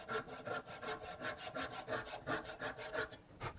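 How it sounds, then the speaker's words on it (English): A turning saw fitted with a 22 TPI blade cuts through wood in steady back-and-forth strokes, each one a rasping, rubbing burst, about ten strokes in a regular rhythm, close and moderately loud with no talk. "I'm going to keep with my turning saw with the 22 points per inch blade."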